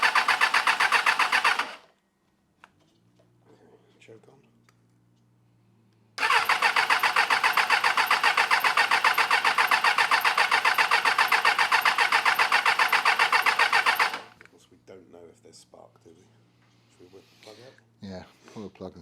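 Suzuki Bandit cafe racer motorcycle engine cranked and fired after choke is applied, first a short burst, then a quiet gap with faint sounds, then a loud steady running stretch that cuts off, followed by quieter handling noises.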